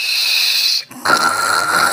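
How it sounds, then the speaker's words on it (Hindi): Loud, nasal snoring breaths in GTA 5, one long drawn-out inhale, a brief pause, then a rumbling exhale, with no talking. "ये तो खर्राटे निकाल रहे खर्राटे।"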